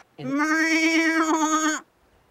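A single sheep or goat on a farm gives one long, wavering bleat lasting over a second, close and clear, then silence.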